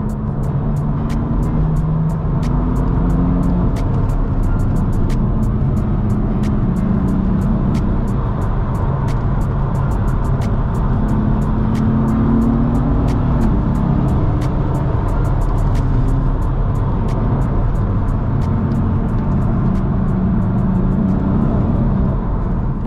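A 510 bhp BMW M3 heard from inside the cabin on a night drive, with a continuous loud engine drone and road roar that rise and fall as it accelerates through the gears, with faint rapid ticking over the top.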